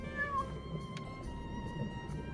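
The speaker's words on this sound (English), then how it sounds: "I hope at least they're gonna feed the kitty." A cat meowing in The Guild video game, several drawn-out meows and short calls over a quiet background hum.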